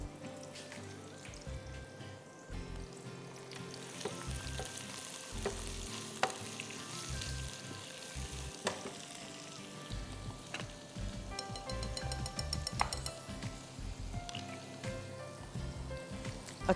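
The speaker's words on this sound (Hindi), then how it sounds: "घी यहाँ पिघल चुका है, इसमें हम डाल देते हैं प्याज, स्लाइस में कटी प्याज" Sliced onions frying in melted ghee, a soft, steady sizzle with scattered stirring and scraping sounds, quiet and close.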